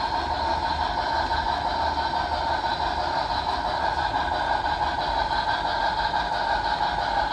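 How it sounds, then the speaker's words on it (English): A steady mechanical hum and rolling rumble of a small BLI 2-8-2 model steam locomotive pulling three passenger cars around a layout, with a faint whine and no voices. "It's got a little 3-car passenger train that goes with it at the moment."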